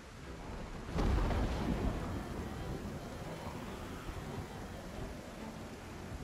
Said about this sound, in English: As we enjoy the atmosphere of the severe storm.